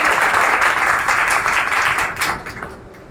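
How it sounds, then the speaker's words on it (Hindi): A classroom audience at a Teacher's Day celebration in a maths and reasoning coaching class gives a teacher loud, dense applause. The clapping fades out over the final second. "तो मैं चाहता हूं कि सर के लिए एक बार जोरदार ताली आप लोग बजाएं।"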